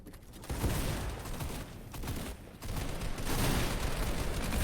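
Sustained gunfire rattles through a competitive PlayVS Trios video game match, dense overlapping shots forming a continuous loud barrage with brief dips in intensity.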